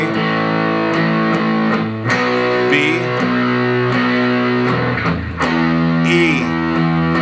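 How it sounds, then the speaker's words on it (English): Electric guitar through a distortion pedal, strummed hard with sustained chords that change every couple of seconds, loud and close, with a voice briefly calling out a chord name. "I've usually got the distortion pedal on, and I'm thumping away on it a little bit"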